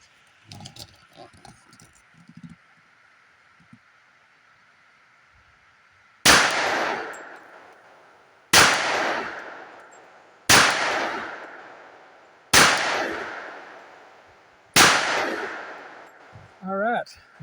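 Five sharp, loud .45 ACP shots from a Glock 30 Gen 5 handgun at an outdoor range, spaced about two seconds apart, each with a ringing decay; faint talk comes before the first shot.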